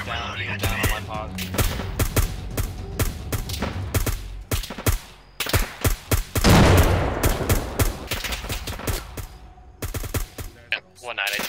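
A squad in the Arma 3 video game lays down suppressing fire on a rock, with loud, dense bursts of rifle and machine-gun fire that come in rapid clusters and short pauses. Voices speak between the volleys.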